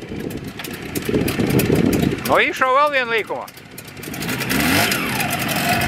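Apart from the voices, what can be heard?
Russian motorcycle engine revving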